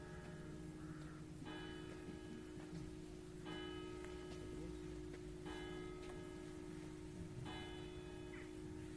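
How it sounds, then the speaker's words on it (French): The largest bell of the Vézelise church strikes five o'clock: five slow, evenly spaced, resonant strokes, each ringing on with a long humming decay over a faint, steady background. "tout simplement 5 coups sur la plus grosse des cloches"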